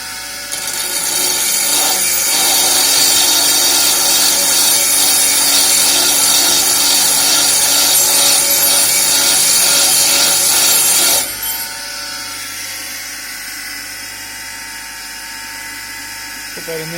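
A drill grinds material off a motorcycle part from a BMW R1200 RS, giving a loud, steady, close abrasive whine for about eleven seconds before it cuts out, leaving a quieter hum.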